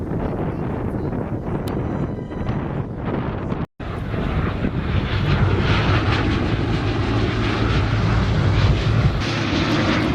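Aircraft flying at the Pacific Airshow, a loud sustained engine roar mixed with heavy wind buffeting on the microphone, broken by a brief dropout and swelling again with a low drone.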